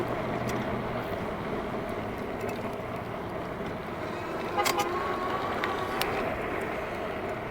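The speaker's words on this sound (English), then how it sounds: "I don't know if you heard the car honk" Steady traffic rumble outdoors during a Jansno X50 ride, with a short car horn honk sounding at a distance partway through.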